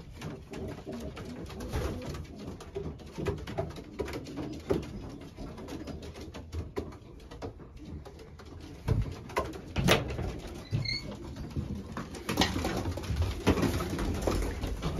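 Racing pigeons coo steadily inside a breeding loft, a dense continuous murmur of soft low calls with occasional wing flutters and knocks, close by and without talk.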